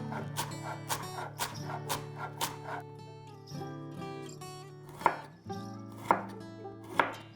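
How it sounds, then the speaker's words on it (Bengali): A knife chops raw green chilies on a board for Bengali beet-carrot vegetable chops, with a quick run of crisp, even strokes followed by a few slower, heavier cuts over soft background music. "কাঁচা লঙ্কাও কুচিয়ে নিচ্ছি যাতে মাঝে মাঝে মুখে পড়ে।"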